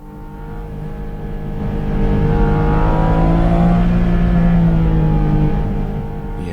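A Porsche GT4 RS driving in Palm Springs, its engine note rising steadily in a loud, close rev that swells through the middle and eases off near the end, with no talking over it.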